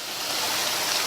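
Squeezed pumpkin water poured into pumpkin that has been fried in ghee for halwa, a steady broadband splashing gush that runs unbroken for the whole moment, close and fairly loud, with no voices.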